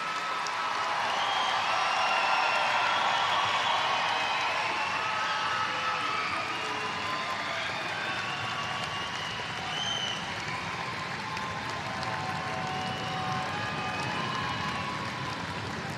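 Loud, dense applause from a commencement crowd honoring the graduating high school class continues unbroken for about sixteen seconds, with scattered cheers woven through the clapping.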